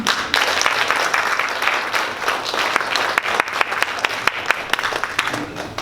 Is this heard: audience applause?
yes